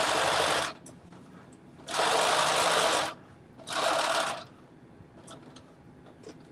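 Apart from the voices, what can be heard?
sewing machine stitching a tunic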